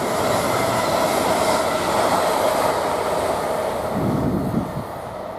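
A train rumbles through Romford station, a steady loud roll of wheels on rail with a faint squeal, easing slightly toward the end, with no one speaking.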